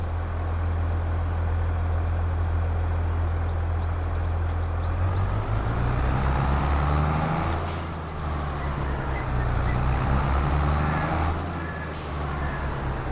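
The stock engine of a Pacific P16 logging truck in Farming Simulator 22 rumbles deep and loud, shifting pitch midway, with sharp air-brake hisses cutting in twice.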